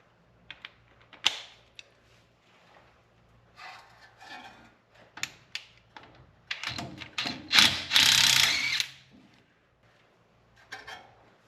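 A 12mm socket and ratchet loosen the bolt holding the brake line to the front spindle of a first-generation Toyota Tacoma, with quiet scattered clicks building to a louder burst of rapid ratcheting, then fading out.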